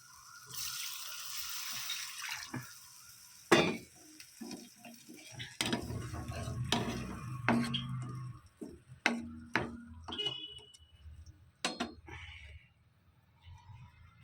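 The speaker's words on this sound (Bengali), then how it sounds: "এবারে জল দিয়ে দেবো।" Water is poured into a cooking pan, with bursts of splashing and stirring scrapes at close range, intermittent and uneven, with no talking.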